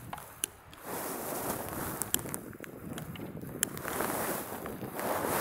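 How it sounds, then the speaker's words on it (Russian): Strong gusting wind buffets an outdoor microphone while someone tries to light a trench candle, a steady roaring rush broken by a few sharp clicks, loud and close throughout. "Вот это вот нереально снимать на таком ветру"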